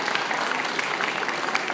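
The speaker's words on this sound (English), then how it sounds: "give her a round of applause." Audience applause at a panel event, a steady dense patter of many hands clapping throughout at moderate loudness, with no voices standing out.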